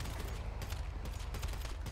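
Rapid gunfire from a plastic bullet gun in a Bruce Wick Part Time Mafia video game session, a dense, continuous burst of loud repeated shots filling the whole moment.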